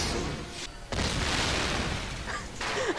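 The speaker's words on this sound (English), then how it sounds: "A badly animated CGI explosion" A Digimon cartoon explosion bursts out in loud, broadband booms, with two heavy blasts separated by a short gap and a faint whistling tone near the end.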